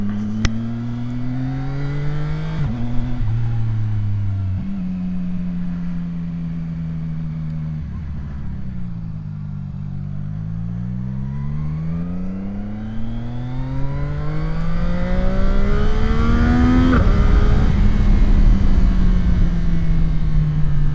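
A CFMOTO 675 SR-R motorcycle engine drones while riding, its pitch climbing and dropping through several gear changes, with rising wind rush as it speeds up toward the end.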